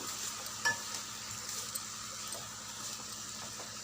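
Spring onions fry in a pan and are stirred now and then, a faint, low sizzle with a sharp tap near the start and a few soft scrapes.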